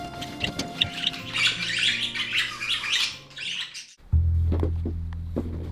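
Rainbow budgies chirp and twitter in an aviary, a busy stream of close, bright calls for about four seconds before the flock goes quieter, with a few scattered chirps over a steady low hum.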